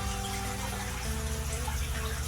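Water poured steadily into a 10-liter DIY nitrobacteria culture container for a fish tank (Wilkins method), a continuous close splashing rush with no pauses and no talk.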